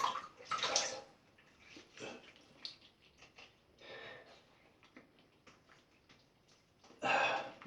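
Water gurgling and splashing as a bathroom sink drains after wet shaving, coming in irregular close bursts with quiet gaps between them, with no speech.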